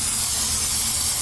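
Avocado oil sprayed into a heated pan for a stir fry, one steady close hiss that runs briefly and then cuts off.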